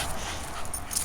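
A frightened dog named Bowie, uneasy around cars, gives a faint, thin whimper close by, high and wavering, over a steady background hiss.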